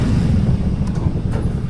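Strong wind buffets the microphone in a loud, low, continuous rumble.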